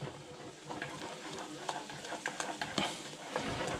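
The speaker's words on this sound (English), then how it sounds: "You gotta keep stirring though." A spoon stirs thickening cream in a pan at the stove, with light scraping strokes and a faint sizzle beneath, brief clicks scattered irregularly across the clip, close and fairly quiet.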